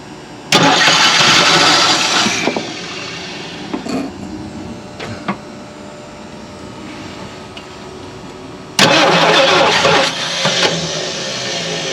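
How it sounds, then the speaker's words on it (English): An abandoned Lincoln Continental, left sitting for 32 years, cranks and starts with a loud burst, drops to a rough idle with scattered knocks, then a second loud cranking burst near the end. "if she'll run, let's do it"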